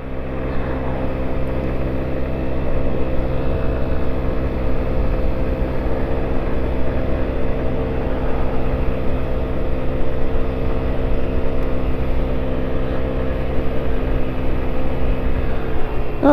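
A WK TTR50 50cc scooter engine drones steadily and loudly throughout, with a constant hum and wind rush while riding.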